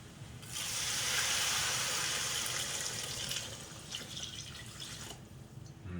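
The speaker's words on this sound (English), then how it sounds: "Now I'm just gonna add in pure water" Pure water poured into a large soup pot for spicy shrimp noodle soup, a steady close hissing stream that runs for several seconds, then eases into lighter splashing and drips.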